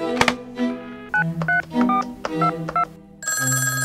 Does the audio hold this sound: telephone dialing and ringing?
yes